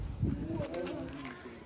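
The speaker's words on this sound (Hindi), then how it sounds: "अब्बास भाई ये कौन सा कबूतर है जी आपके हाथ में? गोल्डन कबूतर है" Soft cooing of a golden pigeon held in the hand, a short low warble, faint and close, against quiet background noise.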